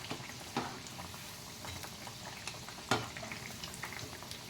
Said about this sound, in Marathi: थोडे थोडे घालून तळून घ्यायचे चांगले सोनेरी कलरवर भाजून घ्यायचे